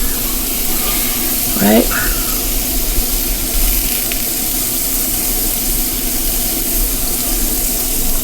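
Pork for tacos bubbling and sizzling in a piping-hot pan, a constant close hiss and crackle running throughout while a person briefly speaks over it.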